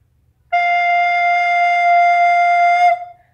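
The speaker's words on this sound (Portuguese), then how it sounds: "eu vou tocar para vocês a nota Fá da segunda oitava da flauta doce contralto" An alto recorder plays the F of its second octave, a single pure sustained tone held for about two and a half seconds, clear and close with no other sounds.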